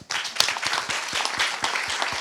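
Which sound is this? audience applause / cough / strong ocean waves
audience applause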